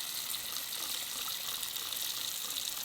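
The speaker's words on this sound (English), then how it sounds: "I'm just gonna fill this bowl up with water and sprinkle a little bit of the vegetable cleaner in there as well" Tap water runs steadily into a bowl being filled for washing vegetables, a continuous close hiss and gush with no talking.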